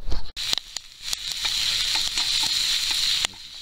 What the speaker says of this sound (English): Still just my rabbit meat and some radishes and some of my meat seasoning. Frying that up real nice.